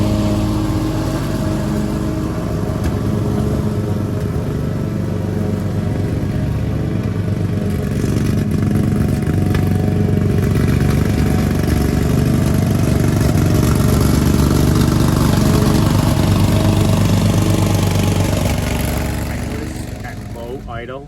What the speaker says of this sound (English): you can't be running the mower at a lower idle